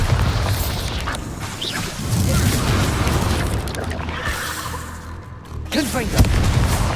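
The Bombarda spell explodes in Hogwarts Legacy with deep booming blasts layered over a loud, rumbling battle mix. A voice speaks briefly before a second heavy boom lands near the end.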